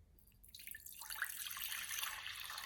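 Filtered water poured into a measuring jug, a soft, quiet trickle that starts after a brief pause and then runs steadily to the end, with no talk.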